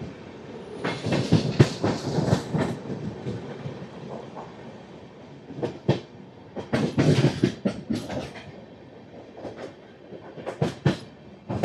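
AP Express 20805 passenger train travelling between Samalkot and Rajahmundry on the Visakhapatnam to Tadepalligudem route, heard from on board: steady rumble with rhythmic wheel clatter over rail joints, surging and fading in bursts.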